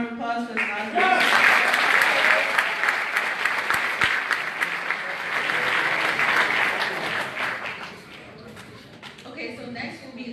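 An audience at a graduation ceremony applauds the graduating class with a long, full burst of clapping that swells, holds and then tapers off. A voice speaks briefly at the start and again near the end.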